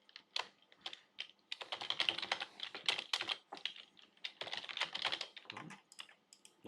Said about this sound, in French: je vais taper